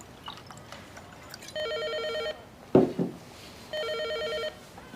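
Two bursts of a telephone ringing indoors, each an electronic trill lasting under a second, separated by a short knock or thud, fairly close and with no talk over them.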